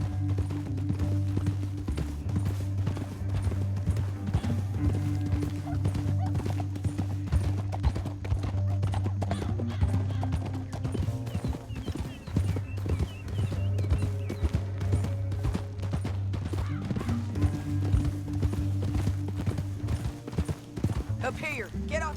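Horse hooves clip-clop in a fast, steady gallop in the Red Dead Redemption 2 Western video game, continuous and close, with a low engine-like drone and background music underneath.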